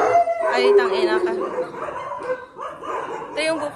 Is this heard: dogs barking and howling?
yes